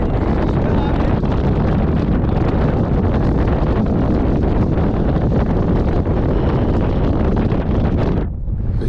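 Strong, continuous wind buffets the microphone with a loud, roaring rush that stays constant before dropping off abruptly at the end.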